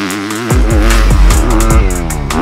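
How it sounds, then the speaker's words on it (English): A Kawasaki KX250 motocross bike engine revs hard and close, its loud four-stroke note climbing and dropping through several rapid throttle blips and gear-change pulls. "The KX250 has a strong engine that you have to completely rev out to get all of its horsepower."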